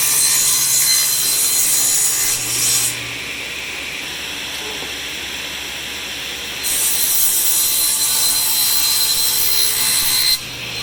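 Table saw ripping a sheet of 3/4 inch plywood, a steady loud high-pitched cutting whine that dips in the middle of the cut and then returns at full strength, with no talking.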